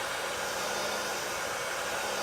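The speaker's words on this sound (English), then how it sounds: "can you hear me over the hair dryer?" A hair dryer runs continuously at close range, a loud, unbroken whooshing hiss of blown air with a faint motor hum beneath, steady and without pauses or voices.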